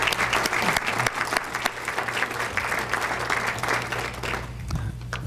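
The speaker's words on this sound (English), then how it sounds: "let's give them a hand applause" An audience at a Hall of Fame induction ceremony breaks into steady applause, many hands clapping together in a dense, sustained patter that thins slightly toward the end.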